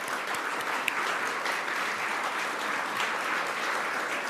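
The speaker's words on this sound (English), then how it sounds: "So, a good round of applause for Aspect." Audience applause at a biomanufacturing investment announcement in Vancouver, a dense, steady wash of many hands clapping together, loud and sustained throughout.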